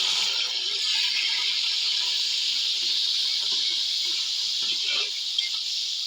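Goat meat and spice masala sizzling steadily as it fries in a pot, a loud continuous hiss with faint crackles underneath and no talk.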